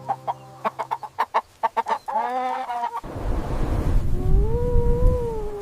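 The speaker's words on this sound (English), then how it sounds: "This is a rooster." A rooster crowing on a farm, rising into a drawn-out call after a run of short, sharp clucks, with a second long crow sounding over loud, rough background noise.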